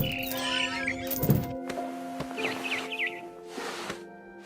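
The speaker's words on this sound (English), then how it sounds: "It was a barn swallow going back to her nest." Barn swallow chirping in the video game What Remains of Edith Finch, a short run of quick, high twittering calls at moderate distance over a steady low game ambience, with a soft thump early on.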